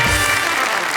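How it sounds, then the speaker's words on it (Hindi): An audience at a Hindi comedy poetry show applauds a guest, a dense, even patter of clapping heard briefly and close. "हम जोरदार तालियों से स्वागत करते हैं इनका"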